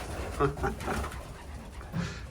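Racing pigeons in a loft, restless and hungry at feeding time, give a few short, soft coos close by against a steady background hum.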